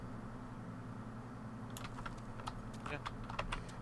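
Computer keyboard typing, a scatter of sharp clicky keystrokes joining partway through over a steady low hum, fairly close and quiet overall.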